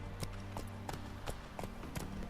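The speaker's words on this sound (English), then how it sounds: "Spooking my horse." Hooves of the horse Roach clip-clop at a steady trot in The Witcher 3 while it is spooked by a ghost, several distinct thuds under a constant low in-game music drone.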